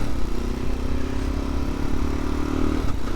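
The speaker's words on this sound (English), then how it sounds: "You hear that? That's the worn out clutch plates." Worn-out clutch plates on a motorcycle rattle and clatter under a steady idling engine, close and continuous for a few seconds.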